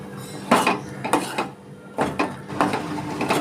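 Sugar is spooned into a pot of thickening milk for fruit custard, a few close metallic scrapes and clinks of a spoon against the pot in uneven bursts, with no voices.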